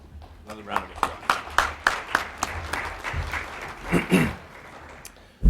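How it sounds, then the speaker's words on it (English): Conference audience at an emergency management event applauding in a hall, clapping that builds in uneven bursts with speech-like voices over it before it tapers. "Another round of applause."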